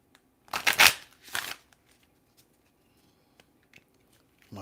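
A new deck of tarot cards is shuffled in two quick, crisp riffling bursts close to the mic, then near silence with faint ticks.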